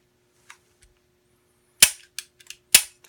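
PK380 pistol being dry-fired with the magazine removed, a few sharp, close metallic clicks and snaps from the action in an otherwise quiet room.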